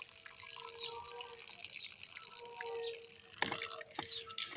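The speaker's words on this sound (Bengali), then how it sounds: "দেখো, ডাল ভালো করে ধুয়ে নিচ্ছি 3-4 বার করে" Chana dal being rinsed in water, with soft sloshing and trickling, a few drips and faint splashes at low volume, no speech.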